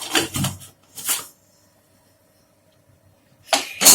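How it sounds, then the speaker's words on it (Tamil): A few short, sharp clattering knocks, then a quiet pause before a louder metallic clunk at the end as a pressure cooker lid is closed on boiling cabbage pulao. "இப்ப நம்ம லிட் போட்டு க்ளோஸ் பண்ணிடலாம்"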